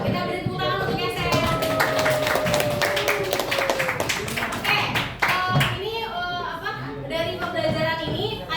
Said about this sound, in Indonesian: Kita beri tepuk tangan untuk Yaser